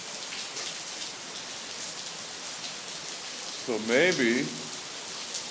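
Steady rain falls outdoors for the whole stretch, a constant soft hiss of drops on surfaces; someone speaks briefly near the end over the patter.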